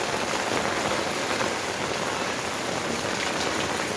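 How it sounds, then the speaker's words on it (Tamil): Heavy rain pours steadily onto betel vines on a farm in Dindigul district, a dense, loud, unbroken hiss of drops on leaves with no voices. "மழை நல்லா ஜோராக பெய்யுது கைஸ்"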